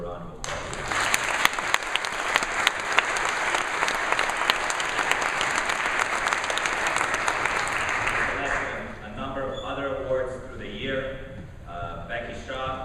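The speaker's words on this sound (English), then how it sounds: "You can give them a round of applause." An audience at a college swimming awards night applauds a women's 400 free relay team with steady, dense clapping for about nine seconds. It then fades as a voice begins speaking.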